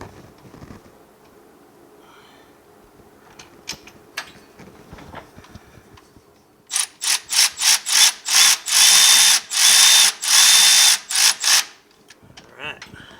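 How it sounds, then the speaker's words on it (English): A ratchet on a long extension tightens engine bolts while a 1965 Chevrolet Malibu SS engine and Muncie 4-speed are installed, producing a loud rapid run of sharp clicking bursts in the middle after scattered quieter clicks and handling noises. "let's get the bolts in"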